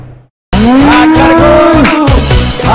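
A cow lets out a loud, close, drawn-out moo at a cattle market in Dhaka, followed by the start of a lower second call amid background bustle.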